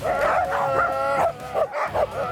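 Excited sled dogs waiting to depart bark, yip and whine close by in a loud overlapping chorus, with a brief dip in the middle before the noise picks up again.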